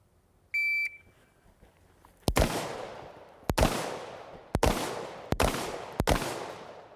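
A short electronic beep from a shot timer is followed by five sharp, loud gunshots fired at a steady pace at a shooting range during an NRA ARC match, each shot trailing off in a brief echo.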